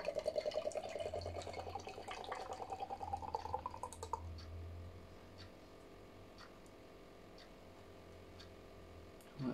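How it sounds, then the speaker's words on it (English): Beer poured from a freshly opened can into a glass, a steady gurgling pour with dripping for the first few seconds, then easing off into quiet fizzing as the head settles. "Let that settle as I pour the last, hopefully, last bit in."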